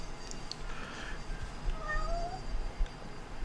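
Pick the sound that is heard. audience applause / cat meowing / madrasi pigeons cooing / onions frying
cat meowing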